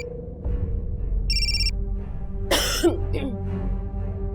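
A phone rings in a brief electronic burst amid a Pakistani drama scene, followed by a close cough and throat clearing over low background hum.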